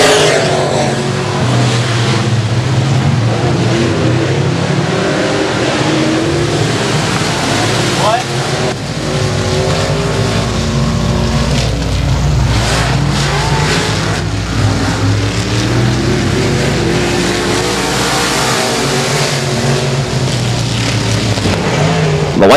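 Race cars roaring around the dirt oval at Boothill Speedway on the final lap, a continuous loud engine drone rising and falling as they pass, with an announcer talking over it.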